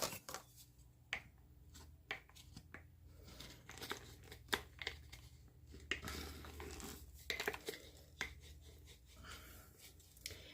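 Packed dry baking mix is worked out of a jar, with quiet scattered clicks, scrapes and crinkling taps from the jar and utensil, close up and soft.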